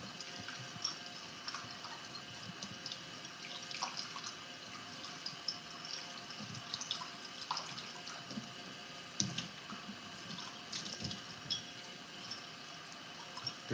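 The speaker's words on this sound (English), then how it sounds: "Doing dishes on live stream." Water runs from a tap into a sink while dishes are washed, a steady quiet flow with scattered faint drips, clinks and splashes throughout.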